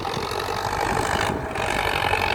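A tractor's engine works steadily while pushing soil to build an access path into a rice field, a continuous mid-pitched drone with a faint rattle, near and unbroken.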